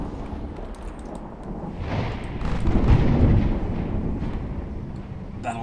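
Naval guns firing in the naval warfare game Ultimate Admiral Dreadnoughts as battleships and cruisers engage: a deep rolling boom swells and fades over a constant low rumble, with no talk.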